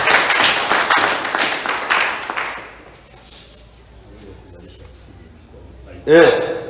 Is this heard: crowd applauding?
yes